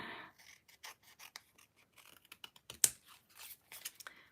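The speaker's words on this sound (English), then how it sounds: "this is a little bit too wide, so I'm just going to trim it" A too-wide paper craft piece being trimmed at a table: a quick run of short, close snips and rustles, faint and uneven, with one sharper click near the middle and no talking.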